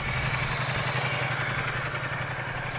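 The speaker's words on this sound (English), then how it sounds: "The new 1260 Ducati Diavel, the Diavel 1260." A Ducati Diavel 1260 motorcycle engine idles steadily, a continuous low rumble with faint mechanical clatter, heard alone with no talk.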